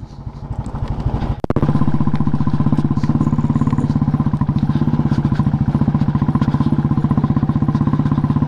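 A motorcycle rides downhill in third or fourth gear with the throttle closed, its engine thumping in a steady, loud rhythm close by after an early clatter.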